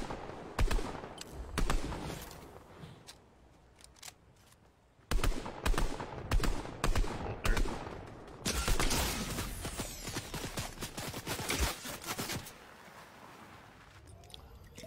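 Gunfire in a no-build battle royale video game match: dense bursts of rapid shots and crackling impacts, loud and close, with brief lulls between volleys and no speech over them.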